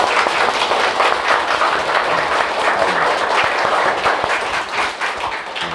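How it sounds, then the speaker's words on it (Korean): A worship congregation at a Korean church seminar gives a round of applause, loud continuous clapping from many hands, sustained evenly for several seconds without speech. "그럼 우리 신랑 되신 예수님께 박수 한번 주세요."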